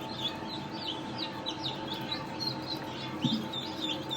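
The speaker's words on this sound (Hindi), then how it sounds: "इधर ऊपर मुर्गी के बच्चे हैं।" Young chickens chirp in repeated high, thin peeps from a coop on a rainy day, set against a steady low background hum, with no talking.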